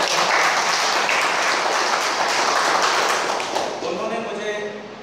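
An audience at a Vestige business event applauds for a friend, Mr. Dipesh, in a dense, steady wash of clapping that fades slightly near the end, with a speaker's voice partly mixed in.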